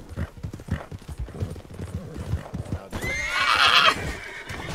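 Talk and hoofbeats run under a loud, shrill horse whinny in a cowboy video game that breaks out near the end.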